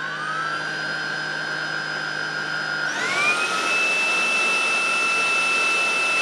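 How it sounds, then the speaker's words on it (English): A Tineco A11 Hero cordless vacuum cleaner whines steadily, then switches up to max mode partway through, rising to a louder, sharper high-pitched squeal that holds to the end, with no voices. "If you set it to max mode, it does get pretty loud, and I like to use, you know, construction earmuffs to kind of avoid the high-pitched squealing"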